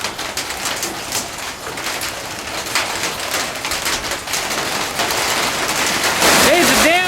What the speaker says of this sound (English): There's a downpour now.